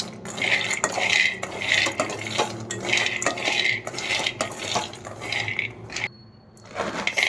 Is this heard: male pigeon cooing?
no